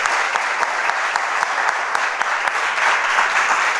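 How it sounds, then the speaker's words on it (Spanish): A church congregation claps steadily and fairly loudly, a continuous wash of many hands with no voices over it. "Si ese aplauso es para Dios, que sea más fuerte."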